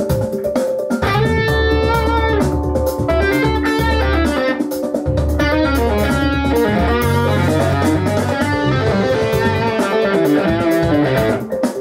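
An electric guitar plays outside the scale, shifting a pentatonic shape up a half step. The phrases are dense and continuous, with sustained harmonic notes and no talking.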